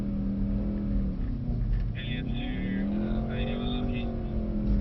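A Mercedes E63 AMG engine drones steadily during a low-rev slide on a skid pan, its pitch dipping and rising with the revs. Voices talk over it.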